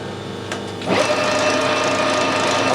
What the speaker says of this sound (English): I've slowed the lathe down a fair bit to part this off.